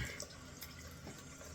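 Tap water running into a sink while rinsing after a face shave, a quiet steady splashing stream with faint trickles, close and brief.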